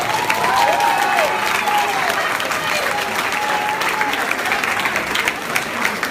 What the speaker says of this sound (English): Stand up, Vikings. Give them a round of applause.